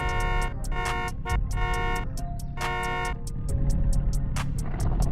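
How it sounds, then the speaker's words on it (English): A car horn honks repeatedly in short and longer blasts, loud and close, over a steady engine rumble, in the video game Realistic Car Driving. "Car horn."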